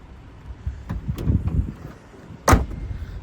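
Electric retractable tow hitch on an Audi A6 2.0 TDI Ultra extending, a short whirring motor run followed by a sharp mechanical clunk as it locks into place.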